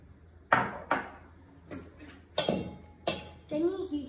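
Butter and sugar thump and clatter into a mixing bowl in a run of sharp knocks, several distinct hits close by, for cookies made with white chocolate chips and coconut.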